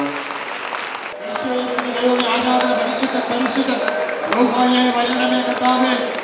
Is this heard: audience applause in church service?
yes